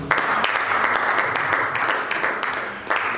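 A church congregation applauding together, a steady and dense wash of clapping that stays loud and even throughout, with a few sharper claps standing out.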